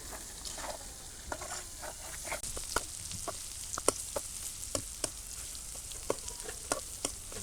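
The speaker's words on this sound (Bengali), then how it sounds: "পেঁয়াজ আর চিংড়ি মাছ একত্রে ভালোভাবে ভাজা ভাজা করে নেবো" Chopped onion, green chillies and local prawns frying together in a pan, a steady close sizzle broken by frequent sharp crackles and the taps of a stirring spatula.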